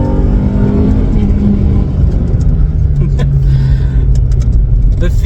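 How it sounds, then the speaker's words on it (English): Toyota Altezza with a lightweight flywheel, its engine droning loud and close as revs shift on a test drive, with someone talking over it. "Oh, the engine sounds amazing. That lightweight flywheel gives you so much top end."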